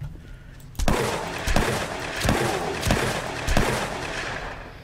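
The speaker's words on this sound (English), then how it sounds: "So I accidentally shoot him in the heart." Gunfire in the survival video game War3zuk: a series of sharp, loud shots, roughly six spaced bursts about a second apart, each with a short reverberant tail, over a low ambient game background.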